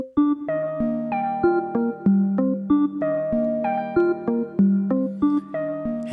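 Notes from a Hocket II device in Pendulum mode, a clean synth-like voice plucking a repeating pattern that climbs and then steps back down, steady even rhythm with crisp attacks, alone and moderately loud.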